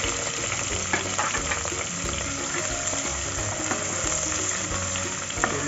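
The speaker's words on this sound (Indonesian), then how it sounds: "kita tumis" Curry leaves and coriander roots sauté in hot oil, a dense continuous sizzle close by with small scattered crackles and stirring clicks.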